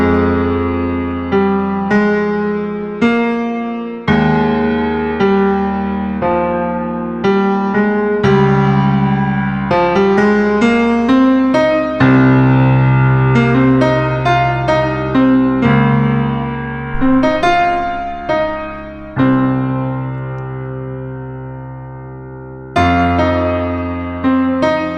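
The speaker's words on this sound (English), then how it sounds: "Let's see how that sounds on our piano." Dry piano treated with reverb and light compression, playing a continuous passage of chords and melody, with notes ringing into a soft reverberant tail; it is close, steady and full, and no voices are heard.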